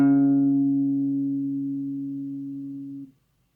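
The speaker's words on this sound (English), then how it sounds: "Does this sound like a perfect fourth?" Two steady sustained tones sounding together a perfect fourth apart, clean with faint upper harmonics, fading gradually over about three seconds before stopping abruptly, with no voices.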